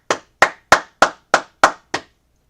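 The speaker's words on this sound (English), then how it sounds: "Go ahead, clap it up, man." Seven sharp, evenly spaced hand claps ring out clearly in a steady rhythm at a men's brotherhood class meeting, then stop, with no other sound around them.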